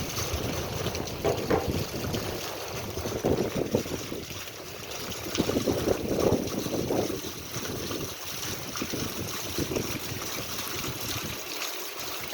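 Heavy rain pours down while runoff water rushes across open plots, a continuous broad roar with gusty, wind-buffeted swells, loud and close, with no voices.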